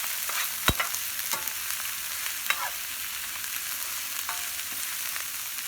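Ginger, garlic, carrots and celery spit and sizzle in hot oil, with a crisp continuous frying hiss broken by several sharp clicks and scrapes as they are stirred and tossed; no one speaks.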